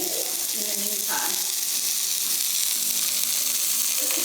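A burger patty sears in a hot pan, a loud, constant sizzle and hiss that fills the whole stretch without letting up, with occasional brief crackles over the top.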